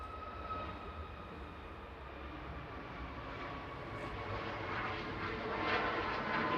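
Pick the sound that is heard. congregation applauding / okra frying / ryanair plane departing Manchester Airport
ryanair plane departing Manchester Airport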